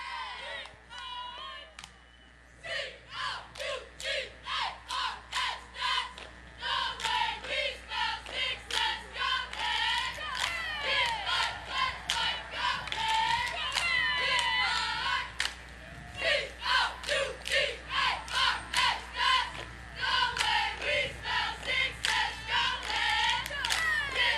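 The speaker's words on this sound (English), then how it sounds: "Oh, we're going to get a cheer here." Cheerleaders shout a rhythmic, chanted cheer at a Fourth of July parade in North Carolina, their voices loud and close in repeated bursts, with crowd noise and talk mixed in.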